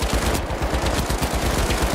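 Rapid automatic turret gunfire from the video game The Finals, a dense continuous stream of loud mechanical shots with no pauses.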